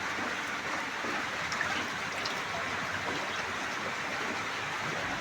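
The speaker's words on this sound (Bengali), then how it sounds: "বাবার ভোলেনাথের তলা দিয়ে সব জল চলে যাচ্ছে বয়ে" Rainwater runs past a shrine of Ma Manasa and Bholenath at a Nabadwip temple with a constant, soft rushing and trickling like a small stream.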